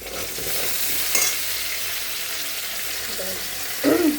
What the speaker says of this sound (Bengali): মশলাটা ভালো করে এখন ভাজা হোক